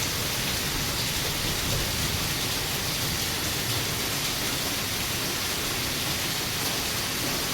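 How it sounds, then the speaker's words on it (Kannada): Heavy rain pours behind a building, water cascading down like a small waterfall, a dense, loud, unbroken roar that holds steady throughout. "ನೋಡಿ, ಮಿನಿ ವಾಟರ್ ಫಾಲ್ಸ್ ಆದಂಗಾಗಿದೆ ನಮ್ಮ ಬಿಲ್ಡಿಂಗ್ ಹಿಂದುಗಡೆ."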